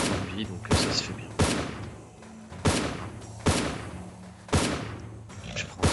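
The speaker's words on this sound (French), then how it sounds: "juste un coup de fusil" Rifle shots in the video game Westland Survival: about six loud, sharp reports fired at a slow, uneven pace, with game ambience filling the gaps between them.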